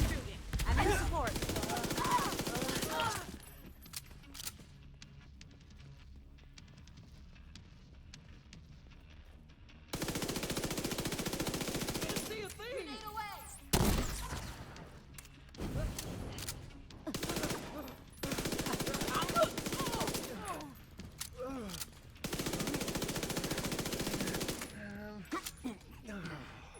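Video game gunfire in loud sustained bursts of automatic fire, broken by quieter gaps with scattered clinks and mechanical clicks, repeating several times across a long stretch.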